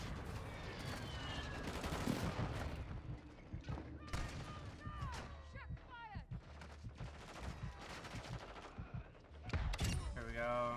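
Gunfire in Call of Duty MW2 from a one-shot Basilisk snakeshot setup: sharp bursts and repeated shots across the clip with whizzing effects and a loud flurry near the end, under a player's occasional talk.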